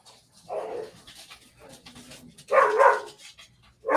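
Dogs bark nearby in loud, uneven bursts mixed with panting and whimpers, with clear pauses between the outbursts.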